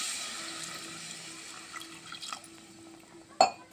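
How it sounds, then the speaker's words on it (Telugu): Water poured into a cooking pot holding lentils for mutton keema curry, a gurgling trickle that fades, then a sharp clink of the pot near the end, close and with no talking. "కొన్ని వాటర్ పోసుకున్నాము"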